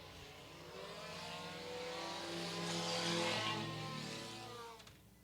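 Stock compact race cars roar past at Mt. Lawn Speedway, engines rising to a loud, sustained snarl as they approach and then fading away as they move off.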